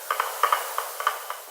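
A spoon stirring rice and water in a dish makes a series of light, quick clinks and scrapes, about ten close taps in an irregular rhythm with no voices.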